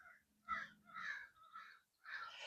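Several crows caw on a mountain top in the morning, sounding distant and faint. Their harsh calls come in a loose sequence of four or five caws, with no talking.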